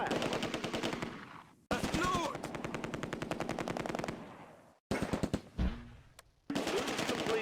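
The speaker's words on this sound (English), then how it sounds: "Heavy fire." Heavy machine gun fire and rifle shots from the wartime strategy game Close Combat: A Bridge Too Far, set during Operation Market Garden, come in long rattling bursts with short gaps between them and one isolated crack near the end.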